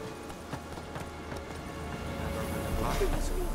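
Horse hooves clip-clop at a steady trot in The Witcher 3, a rhythmic run of close, moderately loud hoofbeats with faint game ambience beneath.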